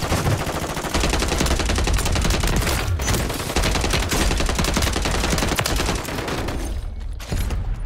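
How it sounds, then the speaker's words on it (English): Dense, continuous rapid gunfire and explosions from a Call of Duty Warzone match with a Kar98 sniper rifle, loud and sustained, shots blending into a heavy barrage. "Somebody shooting with sniper."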